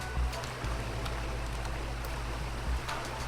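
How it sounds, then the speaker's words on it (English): Steady rushing, stream-like water noise from waterfalls in a video game under development, heard as a continuous even wash with a low rumble, no talk over it. "between these two waterfall sounds that are right here, you can kind of, if you stand in the middle, you can hear just about both of them"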